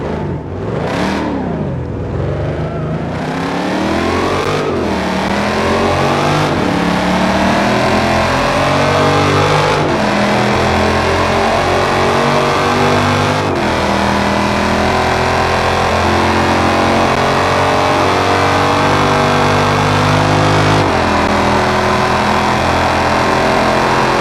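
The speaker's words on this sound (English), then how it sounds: "So we're going to have to restart the car" A Dodge car engine in BeamNG Drive cranks and starts, then revs repeatedly in loud, rising and falling sweeps that settle into a steady, sustained drone, with no talking.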